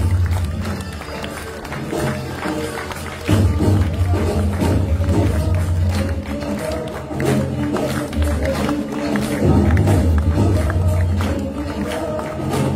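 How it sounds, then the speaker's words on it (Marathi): Loud, sustained clapping from a crowd at a felicitation ceremony during a Guru Purnima health camp and satsang in Narayangaon, continuing steadily throughout with swells of intensity. "जोरदार टाळ्या"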